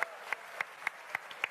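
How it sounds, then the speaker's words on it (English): A handful of scattered handclaps from an audience at a Frontier Expo 2017 Elite Dangerous presentation, greeting the Chieftain ship. About six or seven separate claps fall at uneven intervals over faint room noise, sparse and fairly close. "Round of applause,"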